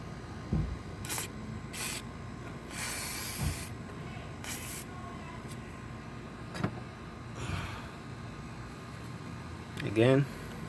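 WD-40 hisses from a can onto engine parts of a 2014 Jeep Patriot 2.4 L during head gasket work, in several short bursts and one longer spray, close, amid clatter of handling.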